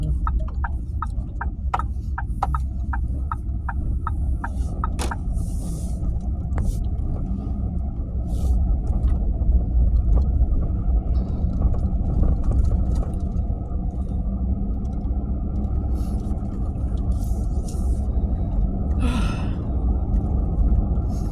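Steady low engine rumble and road hum from a car being driven, continuous throughout, with a series of faint regular clicks like a turn signal early on and a soft voice speaking over it at times.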